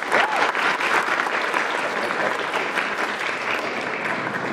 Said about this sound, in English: So we can give a round of applause.